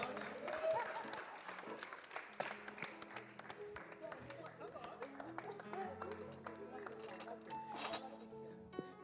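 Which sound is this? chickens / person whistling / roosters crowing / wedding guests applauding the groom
wedding guests applauding the groom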